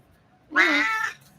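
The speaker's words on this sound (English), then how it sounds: "And the cat is going to be meowing at me." A house cat gives a single clear meow lasting about half a second, close by, in an otherwise quiet indoor room.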